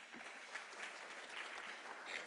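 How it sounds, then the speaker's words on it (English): Audience applause fills a conference hall after a speaker on a transport and logistics panel finishes, a steady dense clapping sustained throughout at moderate, fairly distant level with no talk over it. "Can you please give her a round of applause?"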